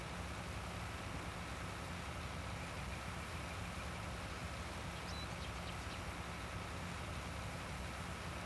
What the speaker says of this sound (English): this little tractor is probably a little bit underpowered as well to be pulling